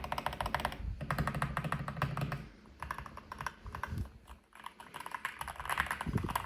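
Rapid, dense typing on a Keychron mechanical keyboard with a concrete case, deep, muted clacks coming in bursts with a brief pause in the middle, close and clear.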